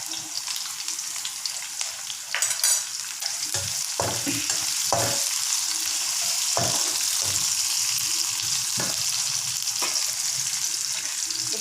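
Raw jackfruit stir-frying in a pan with chili, garlic and salt, a steady loud sizzle running throughout, broken by several sharp scraping stirs of the spatula.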